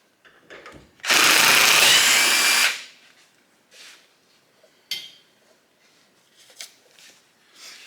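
A power tool with a socket spins off a Menscer shock fastener in one loud, close burst of about a second and a half, followed by faint clinks and handling noises.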